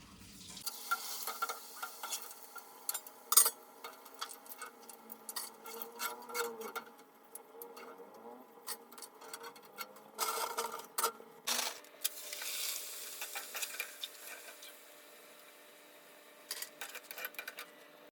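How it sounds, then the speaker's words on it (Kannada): Pappad (papadum) fries in hot oil, with soft bursts of crackling sizzle coming and going over quiet pauses, fairly faint and close. "ಎಣ್ಣೆ ಕಾದಿದೆ. ಇವಾಗ ಹಪ್ಪಳನ ಮಾಡ್ಕೊಳ್ಳೋಣ."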